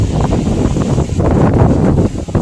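Strong wind roars and buffets the microphone in a loud, continuous rush with no voices.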